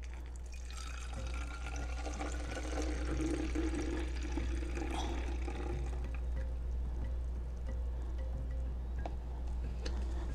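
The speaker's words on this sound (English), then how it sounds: "So just pour that into your spray bottle." A steady trickle of an essential oil and water mix pouring into a spray bottle continues for several seconds over a low constant hum, soft and close, with no one talking.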